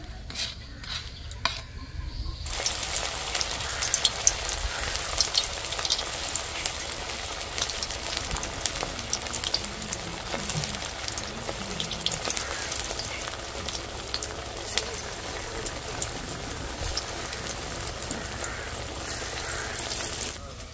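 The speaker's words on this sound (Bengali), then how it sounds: "এই পকোড়াগুলো ভাজা হয়ে গেছে। মুচমুচে করে ভেজে নিয়েছি" Sabudana pakoras deep frying in hot oil, a dense, rain-like crackling that runs steadily after a few opening clinks of utensils.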